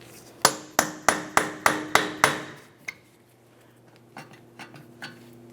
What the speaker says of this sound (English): Use a hammer and punch directly in the center here